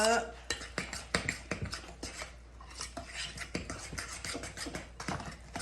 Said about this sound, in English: Stir all that up.